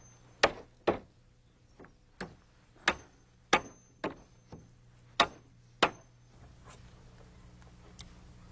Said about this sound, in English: And now all I need to do is finish nailing off the risers.